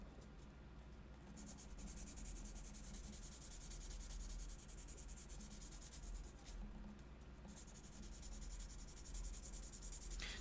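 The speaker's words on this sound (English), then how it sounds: "Now this is pretty high grit sandpaper, so it's not taking a lot of material off. This is just scuffing up the surface" High grit sandpaper scuffs a surface that will be backfilled with epoxy putty, a faint continuous rubbing hiss with gentle back-and-forth strokes and no talking.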